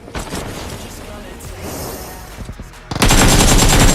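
Rapid bursts of gunfire in the PUBG Mobile video game, loud and dense, ending in a sustained blast of continuous firing, with people talking over the shooting.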